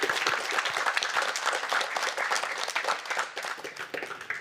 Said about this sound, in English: I think we should have a round of applause there